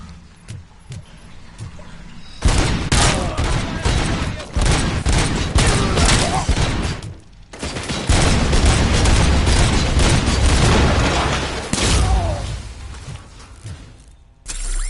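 Sustained rapid turret gunfire in RoboCop: Rogue City rattles in two long, loud bursts, broken by a short pause and ringing with dense mechanical clatter and booms.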